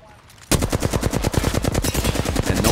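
Rapid automatic gunfire in a shooter video game, a dense rattling burst that kicks in abruptly after a quiet half second and keeps firing loudly to the end.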